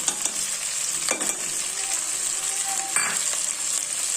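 Ridge gourd curry with salt and turmeric fries in a pan with a constant bright sizzle while a spoon stirs it, giving a few scrapes and light clinks against the metal.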